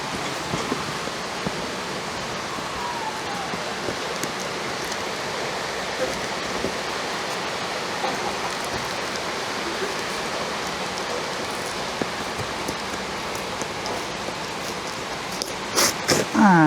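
Rain falls outdoors as a steady, even hiss of patter that continues unbroken throughout, with a few clattering knocks near the end.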